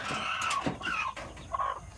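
Chickens with chicks cluck and call nearby in short, overlapping bursts over a soft outdoor background.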